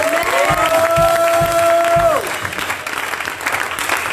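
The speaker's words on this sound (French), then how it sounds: "Volevo fare un applauso a Dio" Applause and cheering from a church seminar congregation rise in a loud, close burst of clapping over a sustained musical tone, then thin out as the crowd noise continues.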